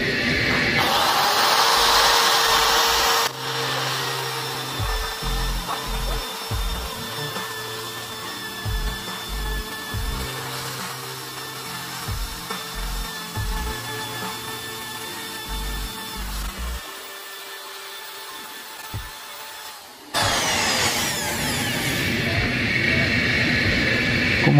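A power drill with a scrubbing attachment whirs continuously while scouring saltpeter off floor tiles, a steady close-up drone with grinding rumbles underneath that stops briefly and then starts again.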